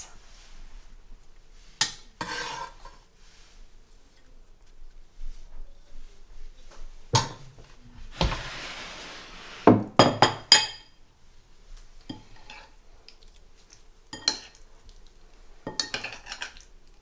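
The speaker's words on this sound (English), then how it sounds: "I'm going to just add that now and give it one final little mix." Chopped ingredients are mixed into a chicken BBQ marinade in a bowl, heard as scattered clinks and scrapes of a utensil against the dish with a short rustling burst, close and otherwise quiet.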